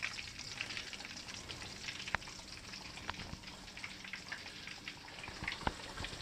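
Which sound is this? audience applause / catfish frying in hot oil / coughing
catfish frying in hot oil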